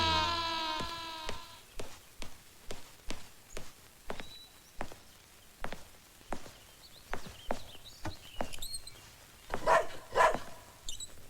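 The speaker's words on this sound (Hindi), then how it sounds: "ये रोमियो क्यों भौंक रहा है?" A dog in a house barks repeatedly in a steady run of sharp, evenly spaced barks, fairly close and loud, with a few higher yelps toward the end.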